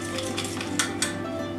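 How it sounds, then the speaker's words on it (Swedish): Paint being stirred and mixed in a container, a steady wet swirling with a few brief scraping clinks against the sides, close and continuous for a moment. "Nu har jag min färg här. Blandar runt lite igen."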